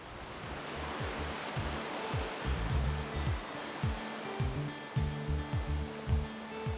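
The North Fork Skokomish River flows through a lower valley with a steady, full rush of water. The sound holds evenly throughout, with low swells rising and falling under the constant flow.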